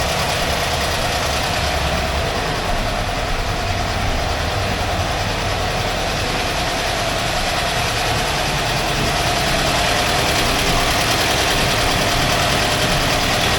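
Air-cooled 1982 VW Vanagon engine running in drive, a loud, steady, continuous drone with a dense rumble and no pauses, heard close with no voices.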